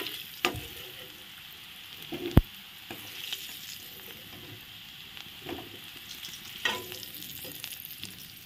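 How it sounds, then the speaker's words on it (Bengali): Potatoes fry in oil with turmeric and salt, a steady sizzle that runs throughout with occasional louder stirring scrapes and clatters of a spatula against the pan, close up and with no voices. "আলুটা আমি প্রথমে ভেজে নিচ্ছি, যে বেশি টেস্ট হবে।"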